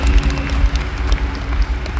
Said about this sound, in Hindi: पहले अभी बजाओ उनके लिए ताली.